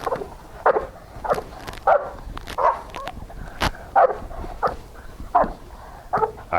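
An American Bulldog barks repeatedly in loud, rough bursts spaced about every half second to second, close by, with a sharp yelp partway through and no talk over it.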